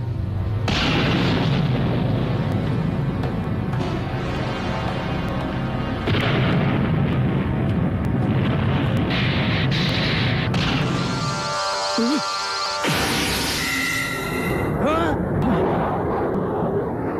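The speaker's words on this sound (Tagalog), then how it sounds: "Ang ray gun!" Ray gun blasts ring out in an anime fight, loud booming bursts and zaps layered under voices and dramatic effects throughout.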